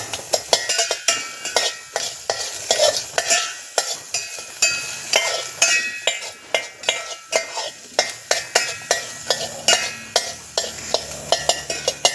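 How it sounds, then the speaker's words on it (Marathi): Sliced onion is stirred and dry-roasted in a pan without oil, with the spoon scraping and clinking against the metal pan in repeated, fairly loud strokes under a faint background hiss. No one speaks. "कांदा आहे ना बिना तेल टाकून बाजायचा"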